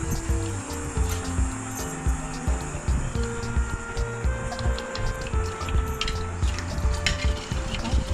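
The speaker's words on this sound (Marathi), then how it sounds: "त्यानंतर मी आता परत गाळून घेतले ते व्यवस्थित" Homemade Konkani solkadhi, a blended coconut-milk and kokum drink, is strained through a sieve. Close, repeated stirring and scraping strokes mix with a wet swishing of liquid, steady and continuous throughout.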